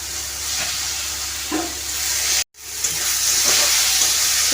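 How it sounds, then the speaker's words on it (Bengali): Spice paste and chicken mince fry in a pan for stuffed pointed gourd, giving a continuous loud sizzle and hiss. The sound cuts out briefly midway, then resumes just as strong. "মশলাটাকে খুব ভালোভাবে কষিয়ে নেওয়ার পরে চিকেন কিমা দিয়ে দেবো"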